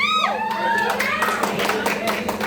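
A party crowd at a company Christmas gathering clapping hands together in a dense, steady burst, with a voice calling out over the applause at the start.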